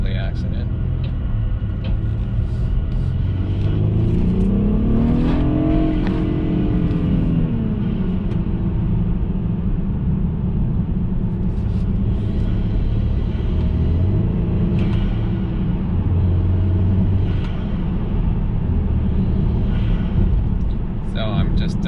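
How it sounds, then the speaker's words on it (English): An F30 BMW 328i with the N20 engine and an Injen aftermarket air intake is driven on the road, its engine rumbling steadily, with one clear rising rev swell early on and a brief surge later. Some talk runs over the cabin drone. "So I'm just popping on and off the gas for you guys, so you can hear it."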